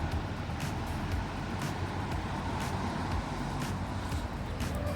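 A few cars pass along a quiet street in Croatia, their steady road rumble blending with a continuous background hum at moderate distance, with no talking.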